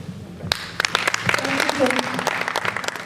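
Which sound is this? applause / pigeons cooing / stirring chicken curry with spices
applause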